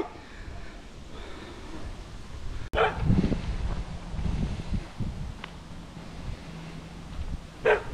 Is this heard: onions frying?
no